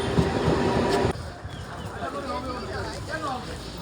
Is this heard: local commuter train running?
yes